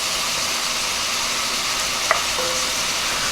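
Red beans with andouille sausage simmer and sizzle in a pot, a steady dense frying hiss with a faint clink of stirring, close up and without talk.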